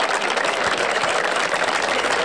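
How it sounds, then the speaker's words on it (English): A prom crowd in Fayette roars and applauds in a dense, steady wash of cheering that holds at full loudness throughout, with no clear voices standing out. "the crowd was so excited you couldn't even hear their introduction"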